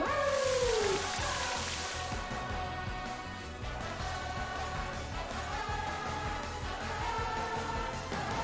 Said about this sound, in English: Blizzard's gonna miss here, giving us a free chance to use that Rain Dance